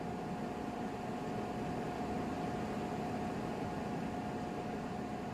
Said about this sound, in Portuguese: Aquele ventilador elétrico está funcionando e fazendo barulho.